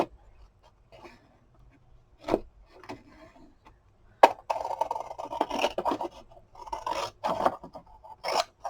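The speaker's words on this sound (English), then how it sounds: "So I'm just going to grab my big scissors." Big scissors cut through paper for a Christmas tag recipe holder, giving a few sparse snips followed by a run of close, crisp slicing and rustling strokes at a craft table.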